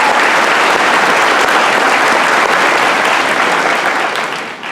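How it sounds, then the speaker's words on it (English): A large graduation crowd applauds in a big hall, thick and loud continuous clapping that holds steady and tapers slightly at the end. "So congratulations, let's give them a round of applause."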